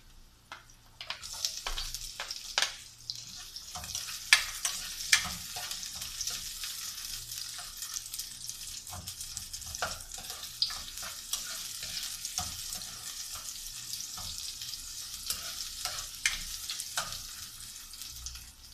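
Onion sautéing in a frying pan for a Filipino mixed vegetable and beef stir-fry: a steady bright sizzle with repeated scraping strokes of a utensil stirring, close and continuous.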